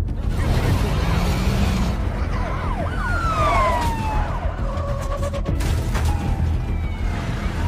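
Police car sirens wail and sweep as they chase a large container truck in a film, loud over a dense rumble of engines and traffic, with several overlapping siren tones rising and falling.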